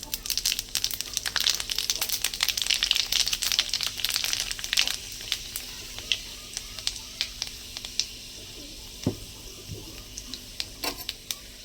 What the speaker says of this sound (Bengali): আমার তেলটা গরম হয়েছে আমি এখন দিয়ে দেবো পাঁচ ফোড়ন